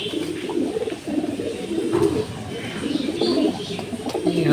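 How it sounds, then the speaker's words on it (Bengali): Racing pigeons coo steadily in a loft in Tangail, soft repeated low throaty calls overlapping one another close by, with a faint murmur of background activity and no clear talk. "এটা হচ্ছে একটি দোবাস কবুতর।"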